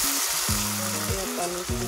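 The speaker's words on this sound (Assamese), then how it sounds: "বিলাহীটো দি ভালকৈ ইয়াত ভাজিব।" Tomato fries in a pan for a home-style Assamese curry, a close, steady sizzle broken by stirring scrapes over about two seconds, with no voices.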